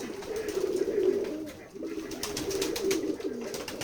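Pigeons cooing in a village in Keshabpur, Jashore, Bangladesh: repeated low, throaty coos close by, running almost continuously against a faint background.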